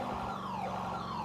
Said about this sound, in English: This is the only siren and lights that'll work.